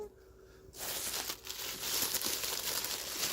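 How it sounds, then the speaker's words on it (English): Birthday gifts wrapped in tissue paper being unwrapped nearby, a steady loud crinkling and rustling of paper that starts abruptly after a quiet moment and continues throughout. "everything is wrapped, so let's get unwrapping"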